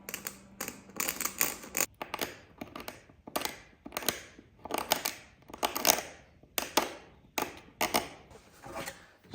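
A hand scraper works across the worn wooden surface of a vintage table, giving a quiet, close series of rhythmic rasping strokes with short pauses between them.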